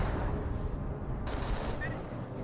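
Gunfire in the video game Company of Heroes, a continuous dense rattle of small-arms and machine-gun fire at moderate loudness with someone talking over it.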